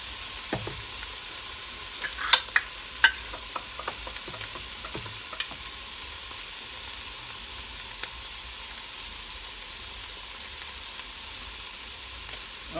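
Ground beef frying in a pan, a steady soft sizzle with scattered scrapes and clicks from stirring, close and quiet with no voices.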